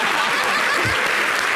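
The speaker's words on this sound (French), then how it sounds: "Merci d'applaudir, Didi B." A studio audience claps steadily and fairly loudly for the artist Didi B on a French-language television show, a continuous wash of applause with a brief voice over it.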